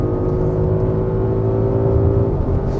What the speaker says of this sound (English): You're able to get on it mid-corner, roll onto the throttle, and he's ready to pounce.